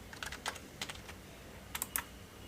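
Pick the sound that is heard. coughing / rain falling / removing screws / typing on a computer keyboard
typing on a computer keyboard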